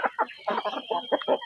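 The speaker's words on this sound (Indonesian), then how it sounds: "untuk ayam kampung asli seperti ini" Native village hens clucking in quick, loud bursts close by, a run of several short calls repeated steadily with brief gaps between them.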